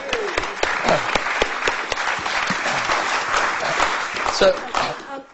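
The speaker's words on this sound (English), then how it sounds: "she deserves a round of applause" An audience at a Royal Academy of Engineering debate gives a round of applause, a dense clatter of claps with some individual sharp hits, while voices murmur underneath and the clapping fades out near the end.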